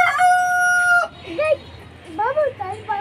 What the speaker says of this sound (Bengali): মুরগিগুলা তোমারে ডাকতেছে